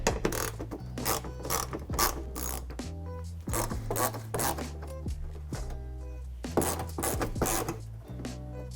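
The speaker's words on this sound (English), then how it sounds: "remove these 3 screws from the inside of your fender liner using a 10mm socket" Ratchet wrench with a 10mm socket backing out screws on the inside of a front fender liner on a 2014-2020 Toyota 4Runner, giving repeated bursts of close, loud clicking with brief pauses between strokes.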